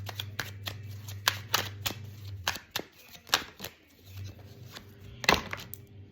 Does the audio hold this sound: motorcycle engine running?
no